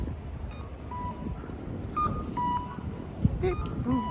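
Electronic pedestrian crossing-signal beeps chirp repeatedly in a busy street ambience in Toyama, Japan, with a voice briefly mimicking the beeping tones.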